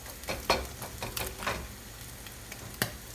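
Egg frying in hot oil for a Chinese tomato and egg stir-fry, giving a soft, steady sizzle with a few sharp clicks and scrapes from stirring, fairly quiet and close with no talking.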